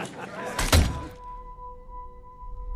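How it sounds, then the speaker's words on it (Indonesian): In a film scene, an arrow strikes the judges' table with a single sharp, heavy thunk, followed by a steady low tonal hum. "Kesal karena diremehkan, Katniss menembakkan panah tepat ke arah meja juri."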